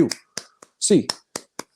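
Eight sharp claps in a steady count, counted off on a UCLA sports podcast, each crisp and close with short gaps, some blending with a voice calling out numbers.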